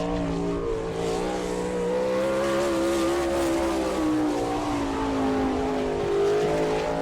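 Sprint-style race car on a qualifying lap at Attica, Ohio, number 99, engine roaring loud and steady with a rising then slowly falling pitch as it circles the track.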